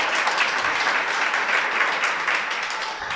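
A congregation applauds at a religious teaching session, steady, dense clapping from many hands that holds evenly throughout and eases slightly at the end.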